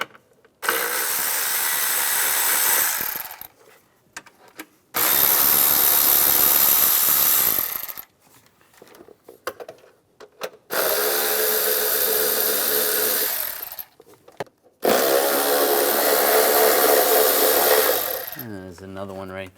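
Bolts being loosened with a 5mm hex socket on a 2004-2010 BMW X3 during starter replacement: four bursts of loud, whirring power-tool driving, each lasting a few seconds and separated by short pauses, close up.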